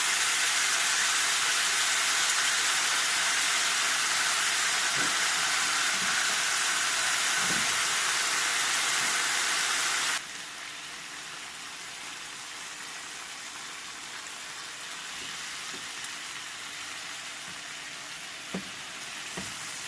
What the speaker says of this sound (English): Fry the ribs until a golden crust forms